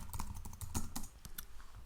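Typing a message on a computer keyboard, with a quick irregular run of close, crisp key clicks and a few louder taps, alone without speech.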